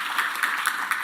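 Audience at a household workers awards ceremony applauding an honouree, a brief patter of scattered hand claps with a few sharper individual claps standing out, fairly faint and unaccompanied by talk.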